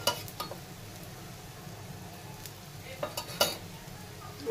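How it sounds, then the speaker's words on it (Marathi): Baby shrimp patties fry in a little oil over a slow flame, a soft continuous sizzle broken by a few light clinks of a utensil against the pan, faint and close. "आता आपण दुसरी बाजू शेकून घेणार आहोत।"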